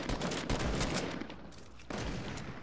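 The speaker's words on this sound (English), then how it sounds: "Who are we shooting at over here?" Gunfire rattles through a multiplayer shooter game, dense overlapping bursts of shots, near and loud, running continuously with a brief lull and then a renewed volley near the end.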